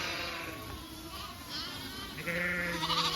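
Sheep and lambs in a large flock bleat repeatedly nearby, overlapping wavering calls that grow louder toward the end.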